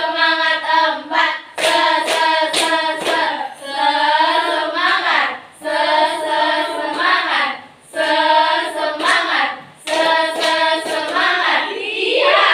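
Students in an Indonesian classroom perform the 'tepuk semangat' clap routine, with bursts of rhythmic group clapping set between stretches of loud, sing-song chanting from many voices.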